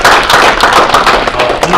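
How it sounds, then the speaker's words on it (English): A lecture-hall audience applauds a vice president being introduced, a dense, steady wash of clapping that stays loud for the whole short stretch, with no voices over it. "Let's hear a round of applause for her."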